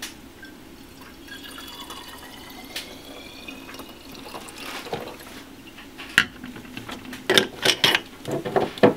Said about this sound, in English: Prepare washing buffer by adding 15 ml of washing buffer to 360 ml of deionized water.